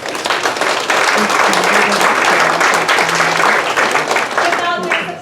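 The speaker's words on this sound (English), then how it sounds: "so let's give them a round of applause." A theatre audience at a performance of A Murder Is Announced breaks into sustained, dense applause lasting several seconds, with a voice speaking faintly underneath.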